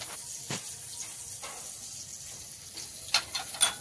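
Tempering spices and chopped onion fry in leftover fish-frying oil with a soft, quiet sizzle, broken by a few sharp spatula clicks near the end.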